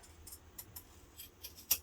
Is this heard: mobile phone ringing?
no